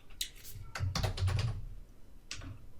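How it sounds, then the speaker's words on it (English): Rapid clatter of computer keyboard keys as code is typed for an Angular Material HTML template, bursts of close keystrokes with a short pause before a final flurry, no talking. "you can stay with me and finish typing those code"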